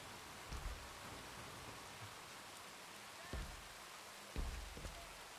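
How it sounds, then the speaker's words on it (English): Steady, quiet rain patters outside a tram in Red Dead roleplay as a soft continuous hiss, with a few low thumps and knocks from inside the car. "it's nice on the tram when it's raining outside"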